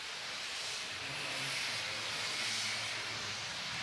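Steady broadband steam hiss from the wash still during a stripping run at a large rum distillery, loud and continuous throughout with a low mechanical rumble underneath and no talking.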